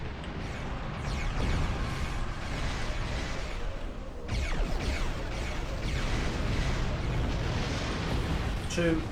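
Starship weapons fire and explosions in a space combat video game rumble in a steady, heavy wash, with a sharp burst around the midpoint and continued booming afterward while a voice talks over it.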